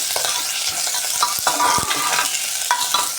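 Green peas and pavta beans being stirred into masale bhat, spiced rice frying in a pan with peanuts; a spoon scrapes and clinks in uneven strokes over a steady close sizzle, with no voices.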